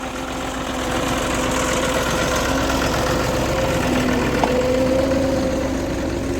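Out in a sugarcane field a tractor engine runs at a steady idle, a loud, close, even rumble with a constant low drone and vibration from start to finish, no voices.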